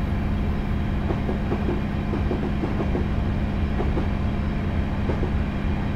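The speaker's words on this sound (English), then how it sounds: "And another class 156, again in Central Trains livery. It's just past our service as we head towards Nottingham." Class 156 train in Central Trains livery in Train Simulator 2018, a steady rumbling run with rhythmic wheel clicks over rail joints, continuous and fairly close with no talk.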